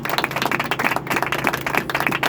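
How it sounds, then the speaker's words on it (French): An audience at a graduation ceremony claps for the class laureate, a dense, steady applause of many hands that runs without a break from start to end. "Applaudissez-la s'il vous plaît."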